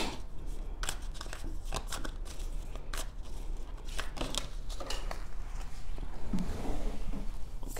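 Tarot cards shuffled by hand in a deck, a steady run of crisp riffling and papery flicks with a few sharper snaps, close and fairly quiet, no voices.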